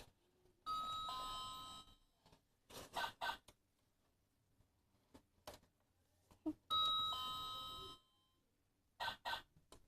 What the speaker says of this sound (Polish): dzwonek, można zadzwonić